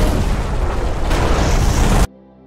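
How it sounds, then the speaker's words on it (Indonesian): A car explodes in a film scene: a loud, sustained roaring blast of fire and debris lasting about two seconds, then cutting abruptly to a quiet low hum. "mobilnya meledak"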